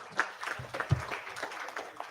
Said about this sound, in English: Please, a huge round of applause